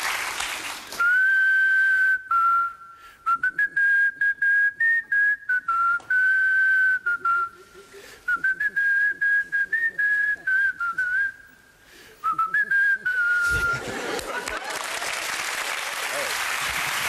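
A person whistles a melody in sustained, wavering notes with short breaks, followed by a burst of applause from a TV studio audience at the end.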